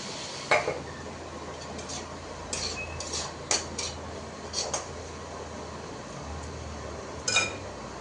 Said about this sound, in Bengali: মাংসটা কড়াইতে কষাচ্ছি, পরে আমি কুকারে ট্রান্সফার করবো